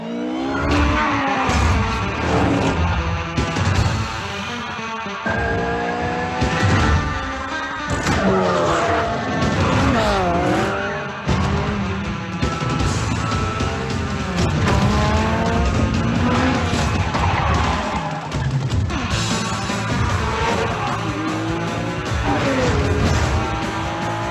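An Acura car commercial with a fast car driving hard. Tires squeal in repeated chirps and skids within a dense, loud, continuous mix of engine roar and backing sound.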